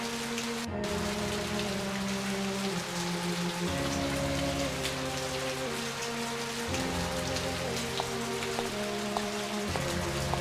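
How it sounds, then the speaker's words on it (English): Rain falls steadily in the video game Agatha Christie: And Then There Were None, a dense even patter on surfaces over a low droning musical background with no talk. "No, just a drizzle."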